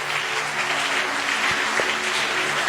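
A church congregation breaks into steady applause and acclaim during a Sunday sermon, a dense, even clapping that fills the space throughout.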